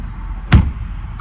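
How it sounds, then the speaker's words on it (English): Door of a 2018 Bentley Bentayga swinging shut with a single solid, muffled thump heard close by, against a quiet cabin background. "Close the door."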